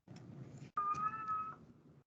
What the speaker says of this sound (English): My cat votes yes, apparently, in the background.